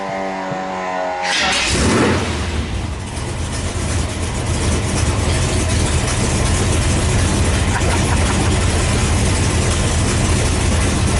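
An offroad wrecker truck's engine fires after the fuel pump is switched on, catching within a second and settling into a loud, steady, rumbling run that fills the rest of the stretch, close up and with no talk.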